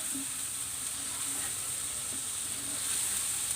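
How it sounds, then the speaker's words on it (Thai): Red curry paste of galangal, garlic and shallot stir-frying in a pan for a shrimp curry, giving a steady close sizzle with faint scraping of the spatula throughout. "ผัดไปเรื่อยๆจนกว่าจะมีกลิ่นหอม"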